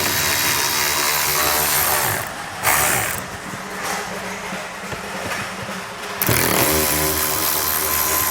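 Power driver backing out T25 screws from the rear wheel well liner of a 2022 Audi Q8: a steady whirring motor runs close and loud, dips into a rougher stretch midway, then resumes its even drone.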